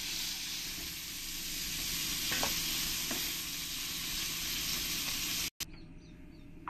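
Prawns frying in hot oil in a pan, a loud steady sizzle with occasional stirring scrapes, then a brief cut and quieter sizzling afterward.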